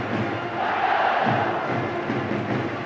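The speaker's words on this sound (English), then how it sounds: "this crowd that was stunned is finding its voice now" Rugby crowd at a 2005 Challenge Cup semi-final between Leeds Rhinos and Toulouse, a dense, loud roar of cheering and shouting that swells and holds steady throughout.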